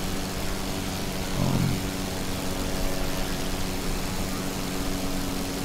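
Vintage De Havilland DH82 Tiger Moth biplane propeller engine from a flight simulator, a steady droning hum running evenly throughout, moderately loud with a slight swell near the start and no talk.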